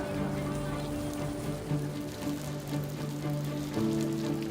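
Steady rain falls on surfaces in a laundry slum in India, a dense, even patter that carries on without a break. Tonal machine or engine hum runs underneath, and a voice can be heard faintly at times.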